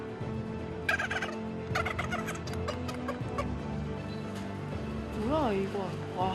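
A wild vulture at the Chungnam wildlife rescue center gives harsh, gobbling distress calls while its mouth is held open to pull plastic cord and debris from its crop, with voices in the background and rising squawks near the end.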